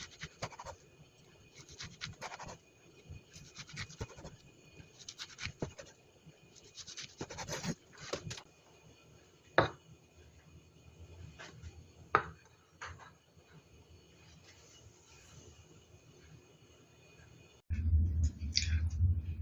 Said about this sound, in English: You can cut kimbap any size you want. Just make sure your knife is sharp enough to cut clean.